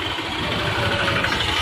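A KTM motorcycle engine idles with a steady, loud, rumbling drone, close by and continuous throughout with no talking.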